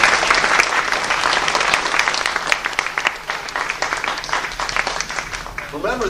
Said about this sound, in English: let's have a nice round of applause for all of our pilots